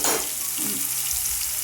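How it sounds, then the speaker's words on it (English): Garlic paste frying with browned onion in a pan over low heat for chicken curry, a steady soft sizzle with a brief stirring scrape near the start. "Once my onion browns, I'm adding in my garlic paste"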